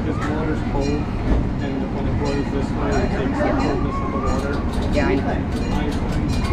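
An amusement park train ride on a boardwalk rumbles along with a steady roar and rattling, while people talk and call out excitedly nearby over the noise.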